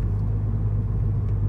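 A Volkswagen Golf GTI running on ethanol, heard as a steady, low engine rumble at idle, close and continuous with no talking.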